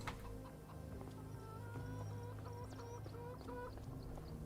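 Hens cluck in a Farming Simulator 25 coop, a busy scatter of short calls over a steady low farmyard hum, close and fairly continuous.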